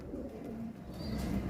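A young pigeon, full sibling of a hen's pair, gives soft low cooing close by, faint and murmuring over a quiet background.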